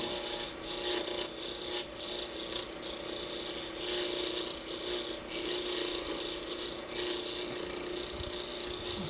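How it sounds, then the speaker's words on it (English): A spindle gouge cuts a wooden blank on a lathe, turning it round for a memorial ring, with a continuous scraping, rasping chatter that swells and fades in pulses under a steady motor whine. "I'm gonna go ahead and just bring it down to round using my spindle gouge."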